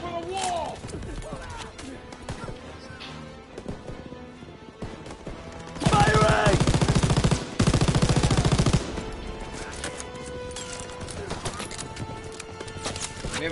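MG machine gun in Call of Duty WWII fires in dense rapid bursts amid game noise, with a person talking throughout.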